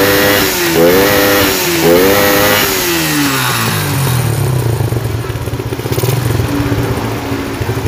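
A Suzuki Shogun motorcycle engine runs loud and close with its exhaust removed, fitted with a new CDI and a PWK carburetor. Rising and falling revs sweep up and down, then settle into a raw, rattly idle with a steady mechanical chatter.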